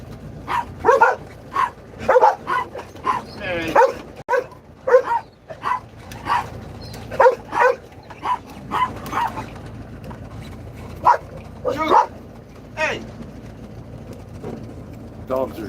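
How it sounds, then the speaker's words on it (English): Excited dogs bark in repeated sharp bursts and yips, some whimpering between, inside a vehicle setting as a trip resumes; the barking comes close and loud at irregular intervals over a steady low rumble. "Dogs are excited."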